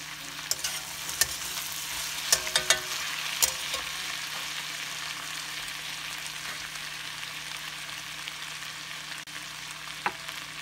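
Capsicum potato sabzi frying in a pan while ground spices are stirred in: a steady close sizzle punctuated by scattered scraping clicks of the spoon, with no voice.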